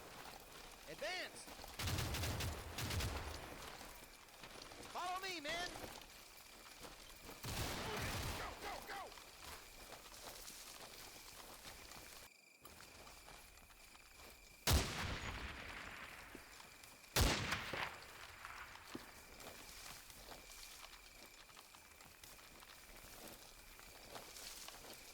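Machine gun fire in the wartime strategy game Combat Mission: Fortress Italy, heard as scattered bursts and sharp reports at moderate distance, separated by quieter stretches of battlefield ambience.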